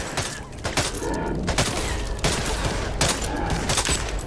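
Sustained gunfire in Back 4 Blood, fought against a monster. Continuous rapid automatic shots and repeated sharp cracks form a loud, busy barrage throughout, with faint talk in the background.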